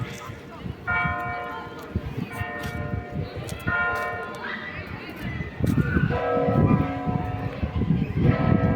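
Church bells ring near Wawel Royal Castle in Kraków, repeated tolling strikes carrying through an outdoor setting under steady crowd noise and people talking nearby.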